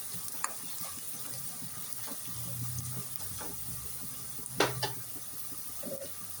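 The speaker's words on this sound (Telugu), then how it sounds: "2 టేబుల్ స్పూన్, పసుపు వేసుకొని అంతా నీట్గా మిక్స్ చేసుకోవాలి." Turmeric being stirred into hot frying oil in a pan for a ridge gourd curry: a steady close sizzle and hiss with scattered scrapes and clinks of a spoon, no voices.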